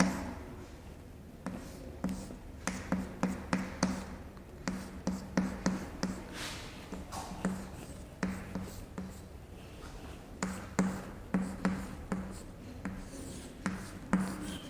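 A pen writes on paper in a quiet classroom setting, making a series of short scratchy strokes in an irregular rhythm, close and faint, with no talk over them.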